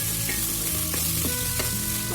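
Beef frying in a casserole for Filipino caldereta after garlic is browned: a loud, continuous sizzle with a few stirring scrapes, close and with no voices.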